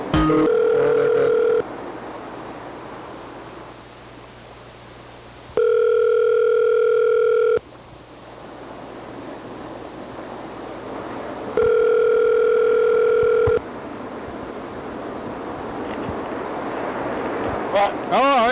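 A landline telephone gives three loud, steady electronic tones, each about two seconds long, spaced several seconds apart, with a quiet low hum and background noise between them.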